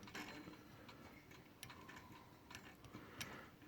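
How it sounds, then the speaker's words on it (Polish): An old clock ticks quietly and steadily in a quiet room, the faint regular ticks heard alone without any talk. "widzicie tutaj nawet zegar zaczął pykać"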